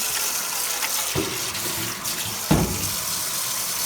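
Used vegetable soaking water, gritty with sand, is poured into a kitchen sink: a steady, close rush of splashing water with two sharper gushes as the flow surges.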